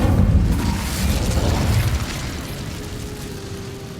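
Incendio fire spell cast in the video game Hogwarts Legacy, a close, loud whooshing burst of flame that roars for about two seconds, then fades into a lingering low crackle and faint hum.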